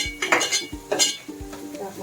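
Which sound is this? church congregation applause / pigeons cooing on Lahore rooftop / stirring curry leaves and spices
stirring curry leaves and spices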